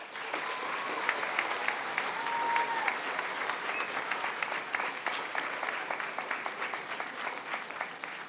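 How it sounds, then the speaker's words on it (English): A town hall room full of people claps steadily, a sustained wash of applause at moderate distance with a few brief whistles or cheers mixed in. "Can we all give her a round of applause?"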